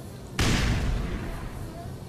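A grenade detonates in Black Mesa with a sudden loud boom, its deep rumble and broad crackle decaying slowly over about two seconds.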